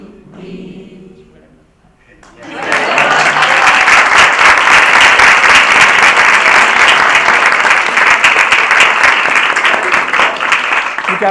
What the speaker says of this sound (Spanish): El aplauso es para ustedes.